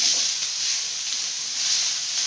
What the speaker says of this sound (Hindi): प्याज और लहसुन अदरक के साथ कीमे को फ्राई कर लेंगे